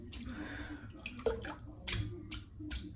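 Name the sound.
shaving brush dipped in water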